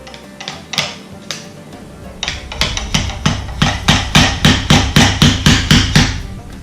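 A hammer taps a fork seal into place on an RMZ 250 motorcycle fork, a close series of quick metallic knocks that start sparse and build into a fast, regular run of about a dozen even strikes.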